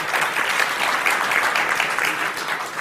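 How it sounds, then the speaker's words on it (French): A tech conference audience at a puzzler session claps for a quiz winner, an even, lively round of applause with a few voices mixed in, fading slightly at the close. "On l'applaudit très fort."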